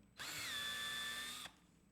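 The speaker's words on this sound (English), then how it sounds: "Drill time." A power drill whirs loudly for about a second and a quarter, starting and stopping abruptly, with a steady high whine and no speech.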